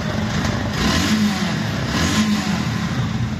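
A yellow Suzuki 155cc second-hand motorcycle engine revs loudly and close, rising in pitch twice in quick succession over a steady rumble.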